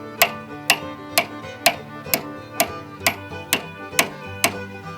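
A hammer taps metal about ten times in an even rhythm, each strike a sharp ringing clink over a faint background hum.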